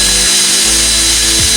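A small power drill with a small drill bit drilling guide holes whines steadily and loudly throughout, with a brief dip in pitch near the end.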